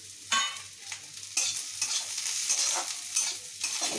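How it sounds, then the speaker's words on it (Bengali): Vegetables frying with cashews and raisins in a pan for poha pulao, a bright steady sizzle broken by several scraping stirs, close and without talk. "এটার সাথে এগুলো একটুখানি ভাজা হয়ে যাবে।"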